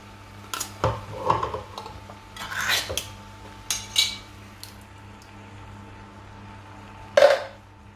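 Tomato pulp going into a pan of minced meat sauce for moussaka, heard as scattered clinks and scrapes of a utensil against the pan, a few sharp knocks and a final clatter, close by, with a low steady hum underneath.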